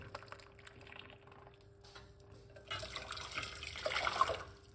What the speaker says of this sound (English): We're going to get 1 cup of water, hot water.